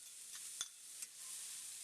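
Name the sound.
onions sizzling in olive oil in a pan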